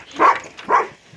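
A dog barks twice, nearby and moderately loud, with a short pause between the two barks.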